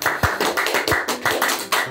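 Several sharp claps in quick irregular succession, close and fairly loud, lasting under two seconds with no talk over them.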